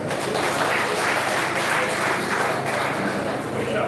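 A seminar audience at a police command event in Ogun claps steadily and loudly throughout, a dense continuous patter of many hands with some crowd noise mixed in.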